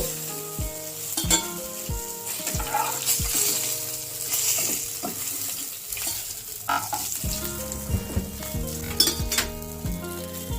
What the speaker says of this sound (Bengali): এবারে মাছটা ভাজা হয়ে গেছে,